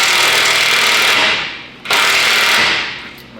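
A cordless power tool runs in the torsion key bolts on the front suspension of a 20-year-old Duramax truck, two loud sustained whirring bursts with a brief pause between them and no talking.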